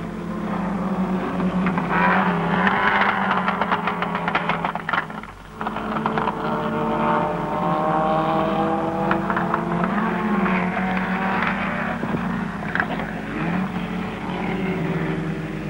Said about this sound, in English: Clark is beckoned past as he laps a slower car. And McKee goes through fast in fifth place.